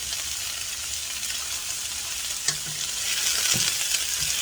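A small lobster sizzling in a hot pan for hoisin sauce lobster, a loud, steady hiss that swells toward the end, with a couple of brief knocks, close and without talking.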